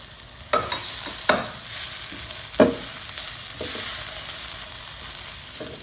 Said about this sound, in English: Give it a good old stir, so you can see the colour.